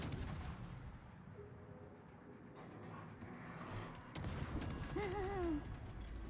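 Gunfire in a naval battle video game during a blind shot attempt, with faint distant booming shots and a rising whistling tone near the end, low overall level.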